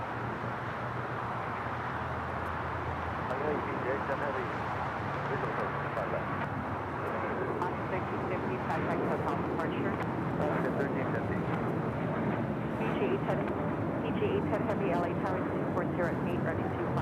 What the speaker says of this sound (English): Asiana A380 now lining up on 24 left for takeoff there on the north side.